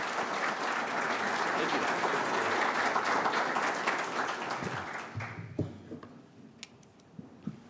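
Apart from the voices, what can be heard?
audience applause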